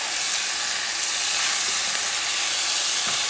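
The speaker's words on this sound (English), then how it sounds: "Just let the baby cook for a little bit until the rabbit is dark." Rabbit pieces brown in a hot pan for a rabbit fricassee, with a steady, loud, continuous sizzle and no talking.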